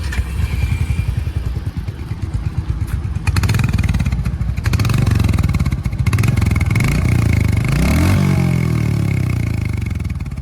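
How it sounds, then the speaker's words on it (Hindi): Royal Enfield Hunter 350 motorcycle idling close by with a deep, thumping single-cylinder exhaust beat, then revving up and settling back, loud and steady with no talk. "जैसे भी आपने आवाज सुनी वही पुरानी, जिसके लिए रॉयल एनफील्ड फेमस थी"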